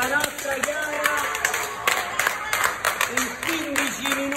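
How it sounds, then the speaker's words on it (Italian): A small group claps in scattered, uneven bursts to celebrate the winner of an eating challenge, with voices talking throughout. "Dai raga, bisogna fare un applauso, eh."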